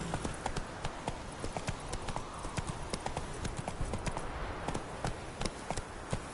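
Horse hooves clip-clopping in The Witcher 3 on PS4, a brisk, steady run of close hoofbeats that carries on without pause and with no talking.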